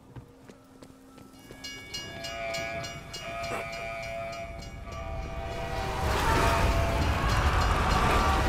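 In the Call of Duty: Black Ops Cold War Zombies game, a train rumbles past with a horn-like whistle tone, building from a moderate roll to a loud, dense rush over several seconds.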